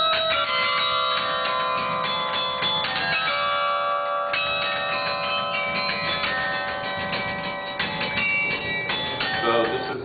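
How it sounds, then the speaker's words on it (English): A university tower bell sounds with rich, sustained metallic tones and overlapping harmonics, including the low C hour bell struck by a hammer, ringing loudly and close up with several strikes blending into a continuous resonant chime. "this is the bar that holds the hammer to the low C bell that rings the hour"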